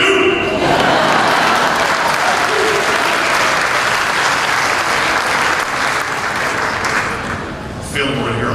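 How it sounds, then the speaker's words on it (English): A large crowd at an announcement event applauds loudly and continuously, with some vocal cheering mixed into the clapping; it thins slightly toward the end before briefly swelling again. "we all should join in the IU cheer"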